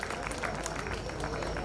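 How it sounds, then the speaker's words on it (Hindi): Applause from the audience at a talent hunt awards event in Ayodhya: continuous, dense clapping from a crowd, steady and moderately loud for the whole stretch, with a voice speaking over it. "बस जोरदार तालियां इनके लिए भी हो जाए"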